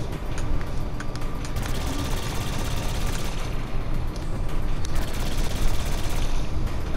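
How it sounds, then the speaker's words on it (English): Sustained gunfire from the video game Saints Row IV, dense overlapping shots and bursts rattling continuously and loudly for the whole stretch, with no talk over it. "Yo, you better stop shooting at me."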